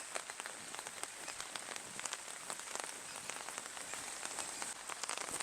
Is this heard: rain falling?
yes